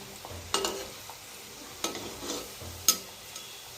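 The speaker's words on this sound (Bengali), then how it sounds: "খুব আস্তে আস্তে ধৈর্য ধরে ভাজতে হবে।" Khoya-filled sweet singaras frying slowly in oil over a low flame, with a soft steady sizzle broken by a few stirring scrapes and louder bubbling bursts, close and fairly quiet, no talking.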